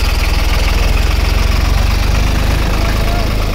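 A New Holland 3630 Special Edition tractor engine runs steadily while pulling a Hind Agro Super Seeder in the field, a loud, continuous low throb with a rapid regular pulse and no break throughout.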